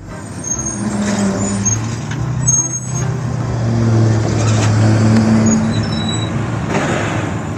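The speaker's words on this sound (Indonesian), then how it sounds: "Mobil truk sampah" A heavy garbage truck engine rumbles and idles nearby, with a brief air-brake hiss and mechanical whine over the steady low drone.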